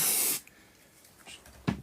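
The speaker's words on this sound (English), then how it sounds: "I'm going to hold it in place with some activator spray." A short, strong hiss from a can of super glue activator spray opens the clip and then stops, followed by quiet handling and a soft knock while building a model chateau base.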